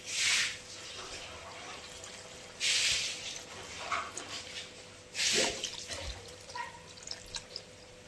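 Small splashes of water are poured into a cooking pan with a curry just after coriander leaves are added, heard as three brief close pours with faint clinks and stirring between them.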